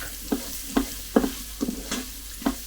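Onions cook in butter in a Cosori pressure cooker pot, stirred in about six rhythmic scraping strokes over a soft sizzle, close and clear with no voices.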